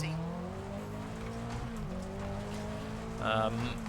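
Rally cars in EA WRC launch from a race start, with steady engine drone and rising revs close up, ending in a brief tire squeal burst.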